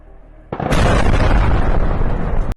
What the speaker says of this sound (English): This is the second massive explosion you see.